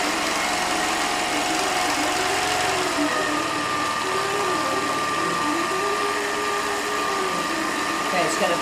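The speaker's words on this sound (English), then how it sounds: "it's going to come up and do the jump stitch, so it can do the back stitching" Sewing machine running continuously while stitching a quilt row of blocks and sashing, a steady mechanical whir with a shifting hum as it jumps and back-stitches, with a voice talking over it.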